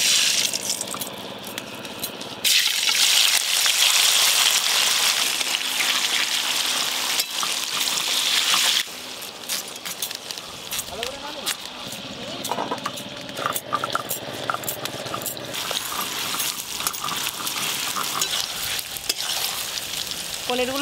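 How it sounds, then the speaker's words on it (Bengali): Paneer pieces fry lightly in salted oil with a loud, close, continuous sizzle. Repeated stirring and spatula scrapes are heard throughout, and the sizzle drops back and grows more uneven partway through. "পনির গুলো খুব হালকা করে ভেজে নেবো।"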